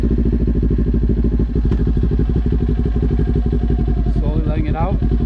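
Motorcycle engine idling steadily and loud throughout, its rev pulsing slightly as the clutch is rocked in and out of the friction zone, with a brief rising whine near the end.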